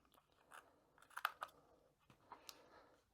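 Quiet, close snipping and crunching of scissors cutting open a cardboard box, a few irregular cuts with short pauses between them.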